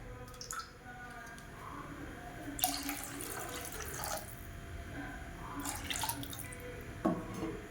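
Water is poured into a pot of green chilli garlic rasam in a home kitchen, making a soft splashing trickle with a few brief louder pours over low background noise.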